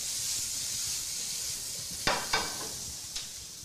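Shredded cabbage sizzles in a hot pan: a steady, moderate frying hiss throughout, with a few short louder crackling bursts as it is stirred.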